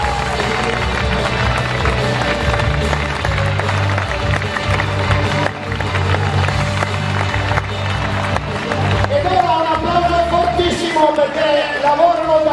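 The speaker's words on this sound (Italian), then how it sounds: "Ma anche due applausi, guarda che bravo" Audience applause at an Art4sport show, a dense continuous clapping crowd that carries on for several seconds while voices and music rise underneath toward the end.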